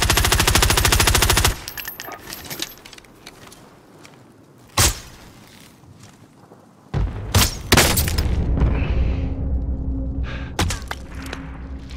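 Gunfire in the Call of Duty video game, opening with a loud burst of rapid automatic fire, then quiet, a single sharp shot, and finally heavy booming shots and crackling fire that continue to the end.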